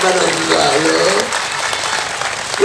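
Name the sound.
audience clapping at religious sermon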